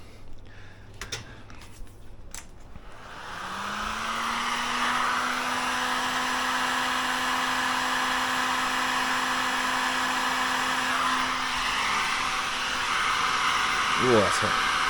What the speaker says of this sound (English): Heat gun.